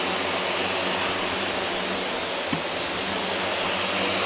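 Motors of a multirotor drone with an APM 2.5 flight controller run at a steady, loud, broadband whine under throttle input, holding an even pitch throughout with no talk.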